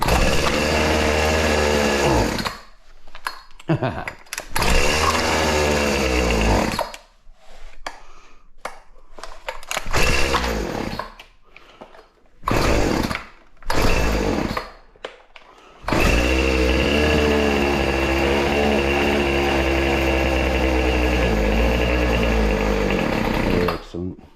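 A petrol string trimmer (weedeater) engine runs loud and close after its idle screw has been adjusted, holding a steady buzzing drone with bursts of revving and several short cut-offs.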